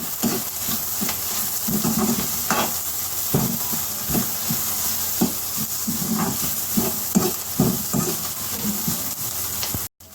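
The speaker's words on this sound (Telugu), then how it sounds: "అల్లం వెల్లుల్లి పేస్ట్ అన్నీ మొత్తం వేగిపోయాయి కదా" Ginger garlic paste with chopped green chillies frying in a pan for a curry, a steady loud sizzle with occasional stirring scrapes throughout, no talking.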